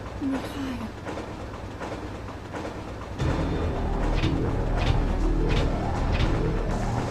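A speeding train in the Resident Evil 3 video game rumbles steadily, its rolling roar getting louder and heavier midway, with rhythmic clatter and faint game sounds over it.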